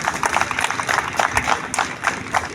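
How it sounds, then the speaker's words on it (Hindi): A crowd applauds steadily at a police battalion's foundation day ceremony, a dense patter of many hands clapping at once with no voices standing out. "इनकी जोरदार तालियों से स्वागत किया जाए"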